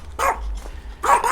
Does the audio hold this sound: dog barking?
yes